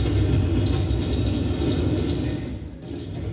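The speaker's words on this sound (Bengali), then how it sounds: "ওই ট্রাম আসছে, চলো।" A tram approaching on its tracks gives off a loud, steady rumble of wheels and rolling stock with faint rhythmic clatter, holding close before easing off slightly near the end.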